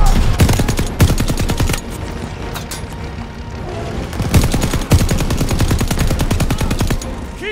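Sustained machine gun fire in Call of Duty: Vanguard during the Battle of El Alamein, long rapid bursts rattling loudly and continuously with a brief lull midway before the firing resumes at full intensity.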